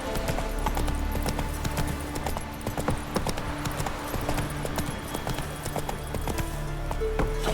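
The horse Roach trotting in The Witcher 3: steady clip-clop of hooves, close and continuous, over ambient game music and wind. No voices are heard.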